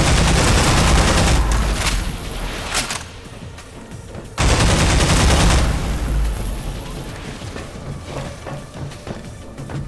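Sustained rapid automatic fire from an AR-2 pulse rifle in Half-Life 2, loud and dense, dipping briefly before a second heavy burst, with scattered impacts and no talk over it.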